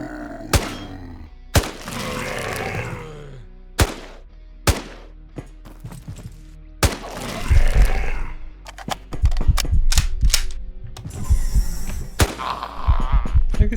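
Sniper rifle shots in the video game QuasiMorph, a series of sharp isolated reports spaced a second or two apart, interspersed with thuds, grunts and denser bursts of combat noise later on.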